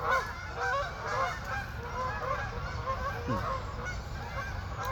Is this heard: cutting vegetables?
no